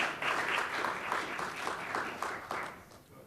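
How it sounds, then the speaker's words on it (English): An audience applauds to welcome speakers at a climate and social psychology talk, a burst of steady clapping that swells and then tapers off toward the end. "Let's give them a nice warm clap."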